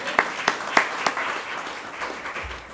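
An audience at the 2026 National Epilepsy Indaba claps in a loose, scattered burst, a few sharper claps standing out near the start before the applause thins and fades, heard from a distance at low volume.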